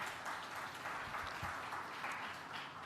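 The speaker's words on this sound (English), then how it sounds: "a big round of applause for them." An audience applauds after a DJ and VJ performance at a business conference, a fairly faint, steady patter of clapping from a hall crowd with no break.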